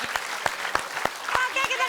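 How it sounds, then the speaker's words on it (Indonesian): A comedy show audience claps in short bursts of distinct hand claps, with voices and laughter mixed in over the top. "Oke, kita kasih tepuk tangan sekali lagi."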